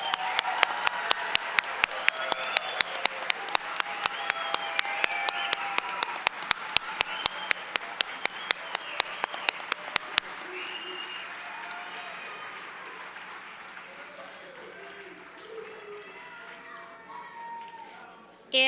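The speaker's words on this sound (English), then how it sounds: "Now let's give our candidates a round of applause." Audience at a college autumn commencement applauds graduating candidates, a dense wash of clapping with sharp individual claps, loud at first and gradually thinning and fading over about eighteen seconds.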